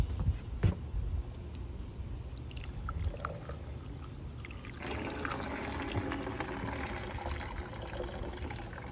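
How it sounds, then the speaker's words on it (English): A toilet flushes, a rush of water swirling and draining steadily for several seconds, growing fuller and denser partway through, heard close with no talking. "Then they flushed it."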